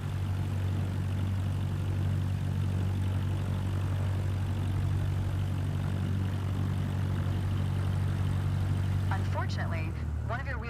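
A propeller airplane engine in a flight simulator game drones steadily through the taxi, its low hum loud and constant until it drops near the end as a voice briefly cuts in.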